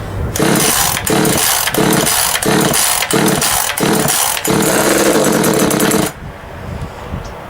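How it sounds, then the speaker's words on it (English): A small 25cc top-handle chainsaw engine revs loudly in repeated rhythmic bursts, then holds a steady high whine before cutting off abruptly into near silence. "First start and run of 25cc Temu top handle chainsaw"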